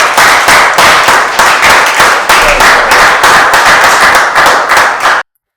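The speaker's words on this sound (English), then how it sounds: "So please give yourself a round of applause." An audience at a listening session claps loudly, in a fast, even rhythm of dense bursts that keeps up for several seconds before stopping abruptly.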